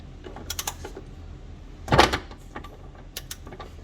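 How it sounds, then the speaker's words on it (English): Torque wrench tightening a tow bar bolt on a VW Passat B5.5 estate, with a few light ratcheting clicks early on and one sharper, louder click and clunk midway, close by, with no talking. "Now what we're going to do is tighten this more until we get a click on the torque wrench."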